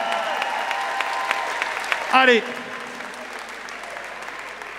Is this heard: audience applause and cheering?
yes